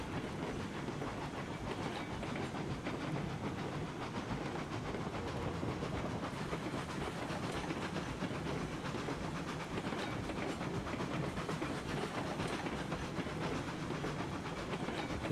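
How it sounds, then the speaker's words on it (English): Train in the game Railroads Online, a continuous broad rumble and hiss with faint rhythmic clatter, steady and moderately loud for the whole stretch with no pauses. "There's another train coming in just as I'm going out."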